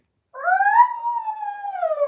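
A child imitates a wolf with one long, wavering howl that rises, peaks, then slowly falls and trails off, loud and close after a moment of silence.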